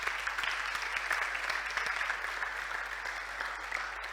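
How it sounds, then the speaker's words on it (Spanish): A conference audience claps steadily, a dense patter of many hands that carries on without pause, no voices rising above it. "un fuerte aplauso"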